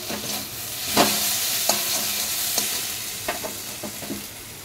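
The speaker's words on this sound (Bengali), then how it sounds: "এবার দিয়ে দেবো পেস্ট করে রাখা মিক্সচারে পোস্ত আর শস্য বাটাটা। ভালো করে নেড়ে চেড়ে নেব।" Poppy seed and mustard paste is stirred into a mixture in a pan, with a soft steady sizzle and several distinct scraping strokes of the spoon at irregular intervals.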